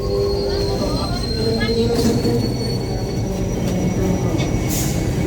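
The Dhoho commuter train pulls out from Surabaya Gubeng station toward Surabaya Kota, a loud, close rumble of wheels on rail with sustained high-pitched squealing and a steady tonal whine, under light background chatter.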